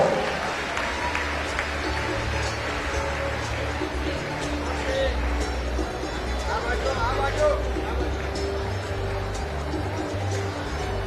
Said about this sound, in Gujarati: ખૂબ ખૂબ તાળીઓથી આપણે વધાવી બધા લઈએ